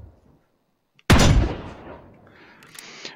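A single loud shotgun blast fired at doves in a VR hunting video game, a sudden sharp crack after near-silence that rolls off into a fading echo, followed by a faint high whine.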